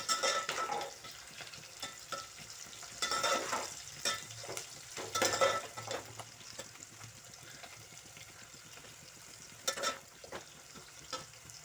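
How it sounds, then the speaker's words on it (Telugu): Fish pieces frying in a pan for an Andhra-style fish curry, with a soft sizzle and intermittent clattering stirs and scrapes, fairly quiet and close. "ఇదిగోండి ఫ్రై అయినాయి కదా కొంచెం బ్రౌన్ కలర్లో వచ్చినాయి"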